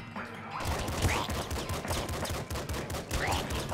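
Shotgun shell bursts in the video game Nuclear Throne, rapid overlapping blasts and impacts in a dense continuous volley after a brief quiet start, loud and busy.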